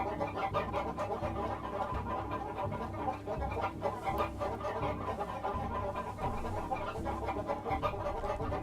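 Chickens cluck steadily in the video game Baten Kaitos, a dense, busy run of fowl calls that continues for the whole stretch without any talking.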